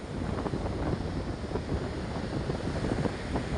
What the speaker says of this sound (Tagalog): Nalakas ang hangin.